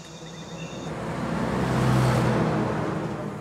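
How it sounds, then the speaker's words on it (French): Heavy log trucks loaded with timber drive along a road near a forest village in Gabon, a low engine rumble swelling as one approaches and passes close by, with no talk. "Mambongo assiste désarmé au balai des camions remplis de grumes qui partent en direction de Libreville"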